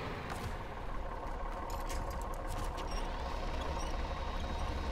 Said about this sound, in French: j'aime bien le petit bruit du moteur là du 4